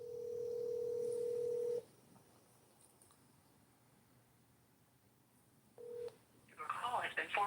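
Telephone keypad tones sound while a voicemail password is entered: one long steady beep, a pause, then a short beep, followed by a brief burst of an automated voice.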